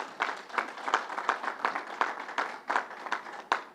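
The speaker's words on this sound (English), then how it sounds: "Let's give Northwell a round of applause." An audience applauds for Northwell Health at a vaccination site event at Belmont Park, a steady patter of many clapping hands with sharp individual claps standing out, fairly faint and without talk.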